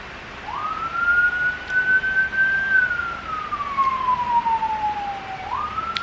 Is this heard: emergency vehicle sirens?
yes